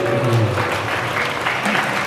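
An audience gathered for a Ramadan religious talk claps together in a dense, loud burst of applause lasting about two seconds, with a faint voice underneath.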